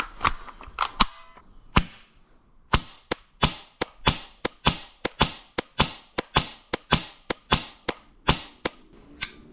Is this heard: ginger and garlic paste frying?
no